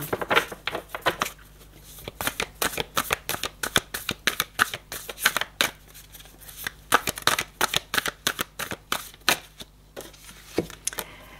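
Tarot cards being shuffled close up in rapid bursts of riffling and slapping, pausing briefly between rounds, with no talking.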